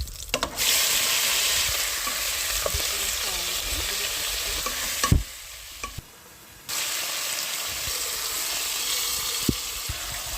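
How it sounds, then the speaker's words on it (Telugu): Curry leaves fry in hot oil with a loud, dense, continuous sizzle close to the pan, briefly dipping quieter midway before the crackle returns at full strength. "మళ్ళీ అదే ఆయిల్ పెట్టి కొద్దిగా ఆయిల్ వేసి కొద్దిగా కరివేపాకు"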